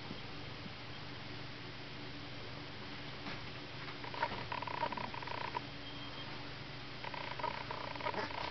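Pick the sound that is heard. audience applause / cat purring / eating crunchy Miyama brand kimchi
cat purring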